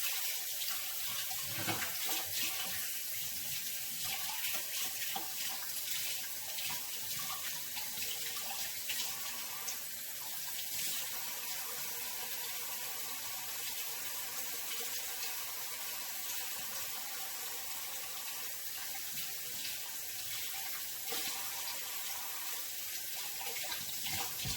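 Tap water runs steadily into a sink throughout while a spoon is rinsed under it, during cooking of shrimp and creamy cheesy polenta, a continuous broadband hiss with a few faint clinks and no talk.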